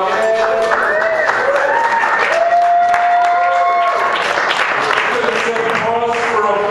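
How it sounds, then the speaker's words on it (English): Dense, sustained applause from a large audience at the annual If Not Now Society inductions, many hands clapping continuously with some cheering voices mixed through the crowd noise. "Pause for applause right in my comments there"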